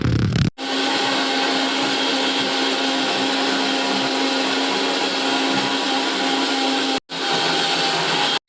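An electric mixer grinder whirs loudly and steadily while grinding a spice paste with onions, a dense continuous motor roar that starts abruptly, briefly cuts out near the end, then resumes.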